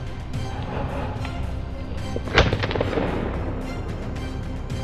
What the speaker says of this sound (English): The gunshot broke the silence.